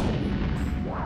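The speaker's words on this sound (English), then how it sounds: "Here's a cannon." Cannon fire in a Roblox obby game, a dense, sustained rumbling boom that fills the whole moment at steady loudness, with no talking over it.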